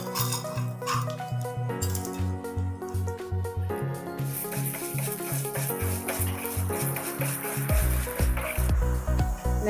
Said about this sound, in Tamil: சேர்த்து நல்லா செவக்க வறுத்து எடுத்துக்கலாங்க.